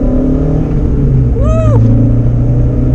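A modified Renault Clio 182 with a 2-litre engine pulls hard in first gear, its steady loud engine drone rising in pitch under a brief whistling sweep, heard from inside the car.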